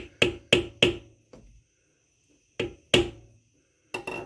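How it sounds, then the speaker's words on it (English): Hammer striking a screwdriver to cut a flathead slot into a stuck screw while changing rocker arms on a 1995 Jeep Wrangler YJ 2.5L four-cylinder: three quick sharp metallic taps, a lighter one, pause, then three more spaced blows, close and loud. "We're going to hit a hammer onto this screwdriver, try to make this a flathead."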